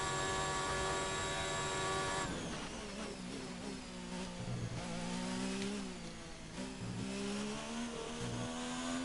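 A Ferrari Formula 1 car engine in F1 2019 at the Mexican Grand Prix, screaming at high revs and hitting the limiter with a buzzing tone, then dropping pitch and rising again through gear changes, loud and continuous.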